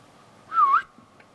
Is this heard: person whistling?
yes